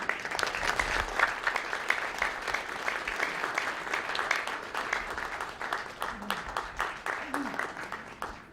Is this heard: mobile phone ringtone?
no